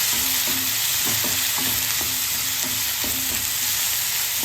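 Onions and tomato sizzle and fry in a pan for ragi semiya, a steady loud crackle with rhythmic stirring scrapes every half second or so.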